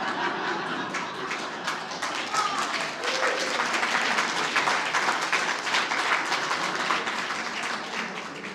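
An audience at a park service awards ceremony claps steadily for several seconds, a dense patter of hands at moderate volume filling a large room.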